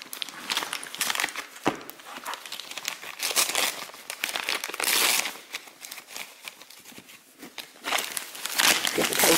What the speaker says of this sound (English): Tearing open this paper.